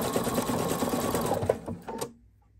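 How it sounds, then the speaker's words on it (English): A sewing machine runs a back stitch on a t-shirt applique, a steady close mechanical whir that slows and stops near the end, followed by a couple of faint clicks. "Then I like to do a fixed stitch or a back stitch here."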